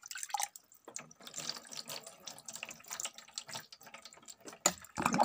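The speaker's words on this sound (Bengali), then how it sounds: "ভালো করে আমার গোপাল সোনাকে সব কিছু ধুয়ে ঘষে ধুয়ে দেবো।" Water poured and splashing over a small Gopal idol during its bath, with irregular pours, drips and trickles into a basin and a louder splash near the end.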